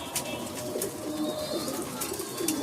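Pigeons in a loft softly cooing in low, rolling calls over a steady background hum, with a few faint sharper chirps.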